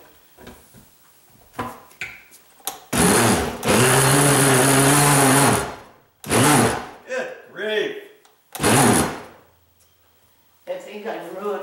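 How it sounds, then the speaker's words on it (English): A loud motor whirs steadily for a couple of seconds, then stops; short bursts of speech come before and after, with another brief mechanical burst later. "I think I ruined my blender."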